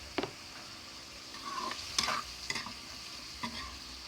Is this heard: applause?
no